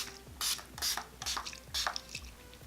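Four or five short, sharp hisses of a spray bottle, evenly spaced, each with a faint click of the trigger, close by and with no talking.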